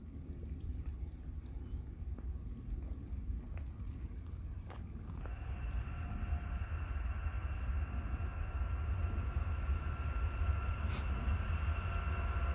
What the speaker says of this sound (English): we got a train approaching westbound